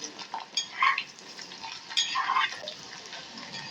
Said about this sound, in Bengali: এখন আমি নারকেলগুলো যে কেটে রেখেছিলাম সেগুলোকে ভেজে নেব আঁচটা কমিয়ে নিয়ে